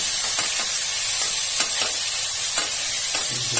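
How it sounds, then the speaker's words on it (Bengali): Stirring vegetables through hot oil in a pan for tomato and pointed gourd paturi, with a steady sizzle and scraping strokes from a spoon at an even rhythm, close and alone. "এগুলোকে একটু নাড়িয়ে নিচ্ছি তেলের সঙ্গে।"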